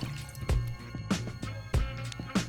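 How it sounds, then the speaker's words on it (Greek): Water is poured into a saucepan to make syrup for homemade bergamot spoon sweet, heard as close, intermittent splashes and drips in short bursts with no talk. "Ρίχνουμε σε κατσαρόλα το νερό"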